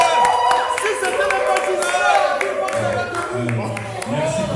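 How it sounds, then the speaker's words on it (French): Applause at a French gathering honoring a court clerk and magistrate, scattered hand clapping from a modest crowd under ongoing talk, fairly close and steady throughout. "Un petit applaudissement. Applaudissements, applaudissements."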